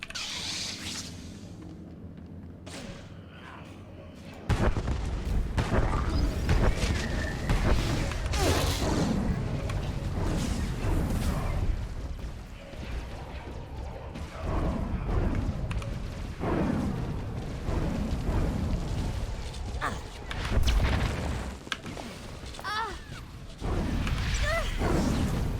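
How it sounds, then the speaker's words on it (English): Blaster fire and booming artillery droids in a Star Wars: The Old Republic battle against Sith Marauders, with dense, continuous bursts, whooshes and explosions layered over loud game music, sustained throughout after a quieter opening. "She is capable of deflecting some of those blaster bolts"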